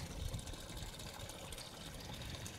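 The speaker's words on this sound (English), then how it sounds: "it has already started siphoning" Water siphons through a pipe in a backyard aquaponics system, a soft, steady gurgling trickle with a faint low bubbling beneath, continuous and fairly quiet.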